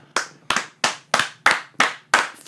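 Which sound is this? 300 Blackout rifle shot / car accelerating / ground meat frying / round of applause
round of applause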